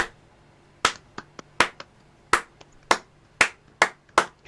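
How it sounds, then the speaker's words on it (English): A single person claps slowly and irregularly during a live online discussion, about ten sharp, close hand claps spaced roughly half a second apart, with a few lighter taps between them. "Can we start a round of applause?"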